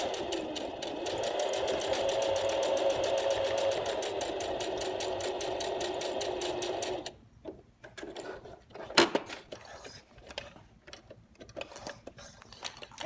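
A sewing machine stitches a messenger bag seam in a steady, rapid, close run of about seven seconds, then stops, leaving faint handling clicks and fabric rustles.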